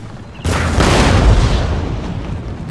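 A single heavy artillery boom from Napoleon Total War cannon fire, loud and close, erupting suddenly and rumbling away over a couple of seconds.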